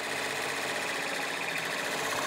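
A sewing machine runs steadily as it stitches appliqué pieces for garment construction, a continuous close whirring hum with no pauses and no talk.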